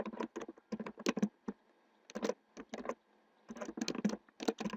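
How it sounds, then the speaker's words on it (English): Keys clack on a computer keyboard while typing into an Excel spreadsheet, quick bursts of close, crisp taps separated by brief pauses, fairly quiet. "Now I will type a subtitle"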